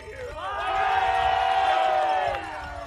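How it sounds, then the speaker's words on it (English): Stadium crowd at a professional wrestling street fight swells into loud, sustained cheering and roaring, holding steady before dropping off near the end. "The crowd here really enjoying this"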